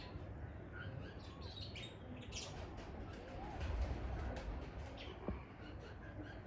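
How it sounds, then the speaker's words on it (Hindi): Racing pigeons kept on a rooftop chirp and coo faintly among a busy, noisy outdoor background, with scattered short calls and a few brief squawks. "ये आपको गेम वाले कबूतरों का शौक करवाया जा रहा है"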